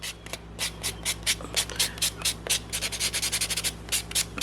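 A buffer block buffs acrylic polygel nails in quick rhythmic strokes, a close, steady series of soft scratchy rubs with no talk.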